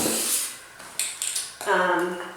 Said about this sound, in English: you're just going to spray the surface